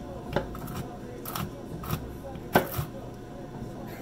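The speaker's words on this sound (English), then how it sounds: "chopping up the nuts." A knife chopping cashew nuts on a board, a handful of sharp, irregular cuts spaced across a few seconds, close and clear against a quiet kitchen background.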